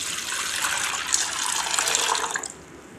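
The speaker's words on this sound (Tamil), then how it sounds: "இப்போ இதில் நல்ல தண்ணி ஊற்றி நம்ம ஊற வச்சுக்கலாம்." Water gushes steadily into a container of washed lentils set to soak, a close splashing pour lasting a few seconds before it tapers off.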